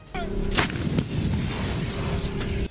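Artillery cannons fire during a military drill, a heavy blast rolling into a long, loud rumble that fills the area, with a sharper crack and a steady mechanical drone running under it.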